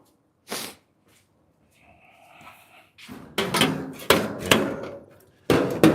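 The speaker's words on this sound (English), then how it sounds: "take out a couple more of them dents." Hammer blows knocking dents out of a 1938 Cadillac body panel in a custom shop: a quiet tap early, then a burst of loud, close, irregular metallic strikes in quick succession.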